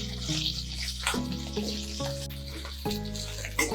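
Drumsticks fry in oil in a pan, with a sizzle and bubbling under a steady low hum and a few light clinks.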